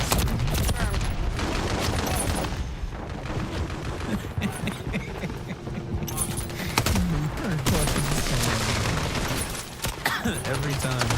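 A Semtex grenade blast and nonstop gunfire erupt in a Call of Duty multiplayer match: dense, loud bursts of rapid shots and booms fill the whole stretch, with voices talking over the chaos.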